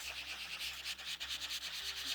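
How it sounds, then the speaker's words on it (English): Quiet, steady back-and-forth rubbing of a sanding block across thin card, a dry scratchy swish repeating in a quick rhythm. "I've just got my sanding block and just gone over that card"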